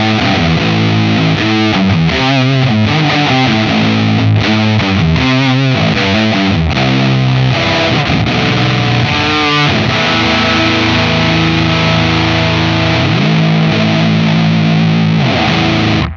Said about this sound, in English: The Sycamore is a distortion pedal.